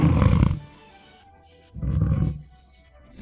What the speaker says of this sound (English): A lion approached the edge of its enclosure. Slow steps, low growls